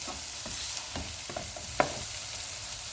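Green onions stir-fry in a pan for fried rice, a continuous bright sizzle with soft scrapes and taps of a spatula and one sharper click near the middle.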